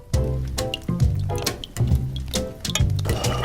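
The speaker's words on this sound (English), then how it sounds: "Now it's time to stir it." A spoon stirs sugar, sweet syrup, water and milk in a small saucepan, making about four rhythmic swishing, scraping strokes close by with no talking.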